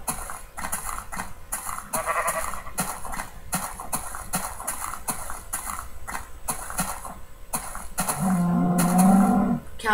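Cattle moo near the end of the clip, a low drawn-out bellow rising above a busy, clattering farmyard background. Earlier there is only scattered knocking and rustling.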